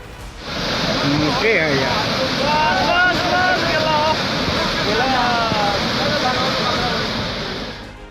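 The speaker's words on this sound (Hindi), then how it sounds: "पहले उफान पर आई बागमती नदी और लाल बकैया नदी का शोर सुनिए।" Floodwater from the swollen Bagmati and Lal Bakaiya rivers, bursting their embankments, gives a steady, loud, broad rushing roar, with voices faintly audible beneath it.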